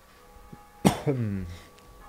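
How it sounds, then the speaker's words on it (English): A single sharp cough bursts out close to the mic, followed straight away by a longer nasal nose blow that trails off, with quiet room tone on either side. "cough into nose blow"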